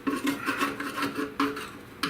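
A tool scrapes old seam sealer off a car firewall in short, rough rasping strokes, close and fairly loud, with a few sharper catches and no talk.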